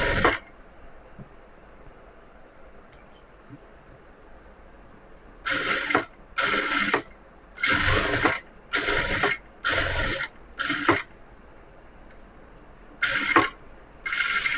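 A sewing machine stitches a cross-cut blouse in short bursts of rapid whirring, each lasting about a second, separated by quiet pauses.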